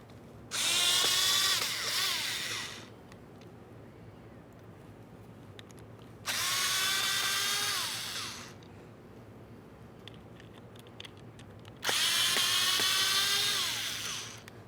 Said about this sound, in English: You'll find it's held in place with 3 Phillips head screws.